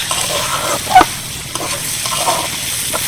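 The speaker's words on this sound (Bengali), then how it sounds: "ভাজা পেঁয়াজগুলো এই কাঁঠালের বীজের মধ্যে মেশানোর পর দেখুন কতটা লোভনীয় হয়েছে" Fried onions are stirred into jackfruit seeds in a pan, a soft sizzle under a few distinct spoon scrapes and knocks against the metal.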